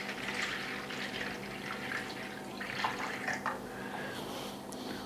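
Water poured into a pot, a liter measured out for a fried chicken marinade in a home kitchen, running steadily with a light splashing trickle throughout, close by and moderately quiet.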